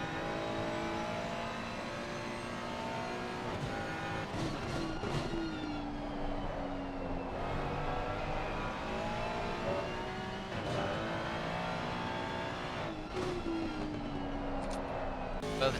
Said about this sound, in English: has now got 2 seconds on Momo, but it is a certain train of orange and black behind, with the 2 Big Brain Racing Lamborghinis and 1 McLaren